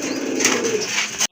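A large silver dom pigeon coos in a steady, close, continuous throaty murmur that cuts off abruptly near the end.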